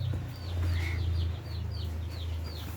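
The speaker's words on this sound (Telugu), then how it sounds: "చూడండి మా స్మాల్ హౌస్లో ఫస్ట్ కోడి పిల్లలు" Young chicks in a small toy house give a series of soft, high chirps and clucks at a steady rhythm over a low hum, close by and fairly quiet.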